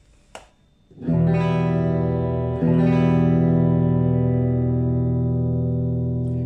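An electric guitar rings out two sustained clean chords through a Boss GT-1000 with hall reverb and no overdrive, each decaying slowly with a spacious reverb tail.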